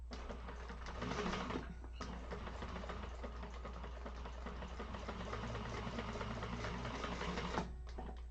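A sewing machine top-stitches a satchel in one continuous, close whirring run with a fast, even mechanical chatter and a low steady hum, and no one speaks.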